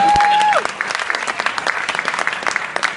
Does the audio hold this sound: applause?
yes